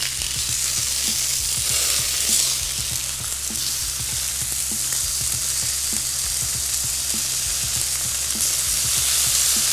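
Potato pieces frying in a pan, with a steady loud sizzle and occasional crackles and pops throughout, no voices.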